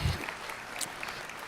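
A keynote audience at a conference breaks into a short burst of clapping that fades quickly, brief applause from a crowd in a hall.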